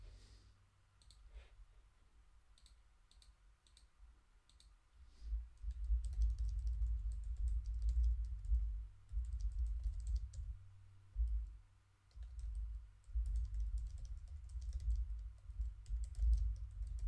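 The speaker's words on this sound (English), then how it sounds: "Just typing in more notes." Typing on a computer keyboard while entering notes, irregular runs of soft close clicks over a low steady hum, with no talk.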